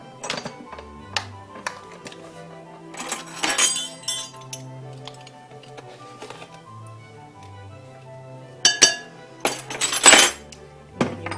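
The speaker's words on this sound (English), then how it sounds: "whisk that together" A whisk clinking against a bowl while flour, baking soda and salt are mixed, with light scattered ticks and bursts of faster rattling, close and fairly quiet, with no talk.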